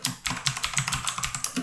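Rapid typing on a computer keyboard while entering product details in a web admin form, a quick run of close, crisp key clicks in an uneven rhythm with no talking.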